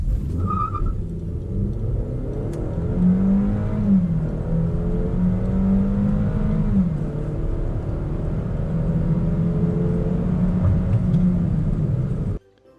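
A car driving on a fuel test run, a steady engine rumble and road drone throughout with rising and falling gear tones, heard from inside the vehicle and ending abruptly.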